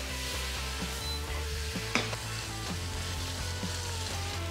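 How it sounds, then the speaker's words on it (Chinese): Chicken pan-frying in hot oil with aromatic spices, a steady soft sizzle under a low background hum, with one brief clink, close and without talk. "好，这个步骤呢，我们就要把鸡先煎香。"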